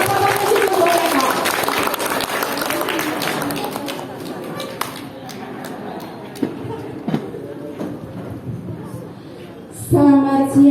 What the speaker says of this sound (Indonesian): Ayo kita tepuk tangan dulu ibu-ibu cantik